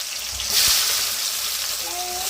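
Onions and vegetables fry in hot oil with pulao spices in a steady, hissing sizzle. A brief swell of stirring comes early on, and faint tonal sounds appear near the end.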